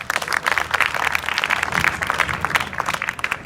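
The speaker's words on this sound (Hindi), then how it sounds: "ताली बजाओ इनके लिए" Students in a classroom at an Indian inter college clap for a classmate who wants to become a singer, a dense, steady patter of many hands lasting a few seconds at moderate loudness.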